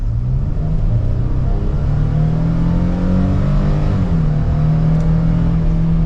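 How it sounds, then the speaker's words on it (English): A 2023 Nissan Frontier PRO-4X pickup's V6 engine pulls up to speed from inside the cab, a loud steady rumbling drone with rising revs and a smooth shift, no talking over it. "we're up to speed with ease, and you get that V6 engine note"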